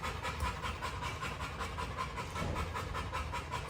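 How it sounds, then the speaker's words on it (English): A hot dog pants steadily after running around, a continuous rapid breathy rhythm filling the whole stretch at close range in a home kitchen, with no talk over it. "my son's dog is here. He's been running around. He's hot. He's panting."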